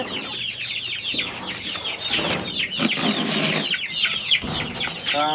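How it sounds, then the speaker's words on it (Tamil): About forty chicks clucking and peeping together nearby on a farm, a dense, busy chorus of chirpy calls that goes on without a break. "இந்த கோழி குஞ்சுகள் எல்லாமே கிட்டத்தட்ட நாற்பது கோழி குஞ்சுகள் ஆட்டிருக்குதுங்க"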